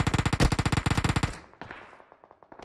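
Gunfire in PUBG Mobile: a fast automatic burst of about twenty close, loud shots lasting over a second, then a quieter trail of scattered, more distant shots.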